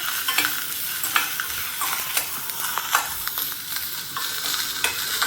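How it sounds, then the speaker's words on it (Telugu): Sliced onion and cabbage fry in hot oil in a pan, a continuous close sizzle broken by repeated clicks and scrapes of stirring, with no voices. "కొంచెం ఉల్లిపాయ ముక్కలు దోరగా వేగిన తర్వాత క్యాబేజీ కూడా వేసుకుని ఈ రెండు కొంచెం కొద్దిగా వేగినట్టు అనిపించాలన్నమాట"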